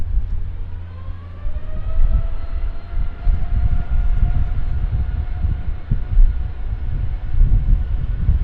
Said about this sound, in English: that Gulfstream's coming right here to the customs ramp